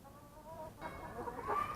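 A few hens in a backyard chicken coop with nesting boxes give soft, faint clucks and short murmuring calls that rise slightly toward the end, with no rooster present.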